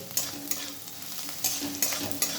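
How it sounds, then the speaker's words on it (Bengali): Sliced onions frying in oil in a pan for a cabbage curry, a steady sizzle broken by a utensil stirring and scraping at irregular intervals, close and moderately loud with no talking. "পেঁয়াজগুলো আমি একটু হালকা লাল লাল করে ভেজে নিচ্ছি।"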